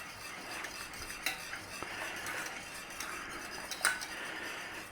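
Spoon stirring thickening gravy in a pan, steady scraping swishes with occasional metallic clinks against the pan, close up and without talk.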